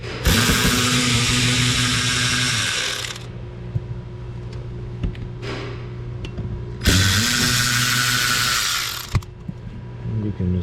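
A power driver backing out screws from the lower passenger footwell panel of a 2012 BMW X5, two loud whirring bursts of a few seconds each with ratcheting clicks and quieter handling in between, close by.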